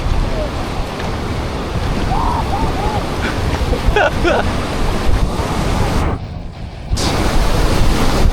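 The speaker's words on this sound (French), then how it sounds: "Oh putain, la vague, mec!" Loud rushing water from a river wave crashing over a canoe at a weir on the Rhône, a continuous roaring wash with wind buffeting the microphone and brief shouts.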